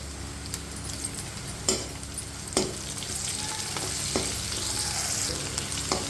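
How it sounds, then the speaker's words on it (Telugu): Three dried red chillies frying in hot oil, a steady close sizzle with a few sharp clinks of a utensil against the pan, no talking. "మూడు ఎండుమిరపకాయలు యాడ్ చేద్దాం ఇప్పుడు వాటిని చీరియండి చేయండి"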